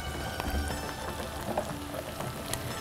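Chicken pieces frying in oil in a pan for a chili chicken dish, a steady soft crackle with scattered small pops throughout, close and moderately quiet, no voices.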